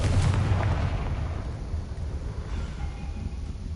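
Confringo spell exploding in the Hogwarts Legacy video game, a loud, close boom that opens the clip and trails into a rumbling roar that slowly fades.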